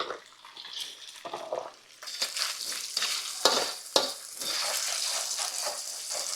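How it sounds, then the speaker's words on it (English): Onions hitting a hot pan for chicken fried rice, starting with a soft hiss that swells into a loud, steady sizzle, broken by sharp scraping and stirring knocks against the pan. "Now let's put these onions in there. Get them cooking."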